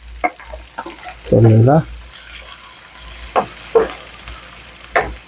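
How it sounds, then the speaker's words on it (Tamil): Chopped onions sizzle in hot oil in a pan with curry leaves and green chillies for chicken liver varuval, stirred now and then; a steady fry runs under short bursts of talk and one louder clatter. "நல்லா பரட்டி விடுங்க வெங்காயத்தை"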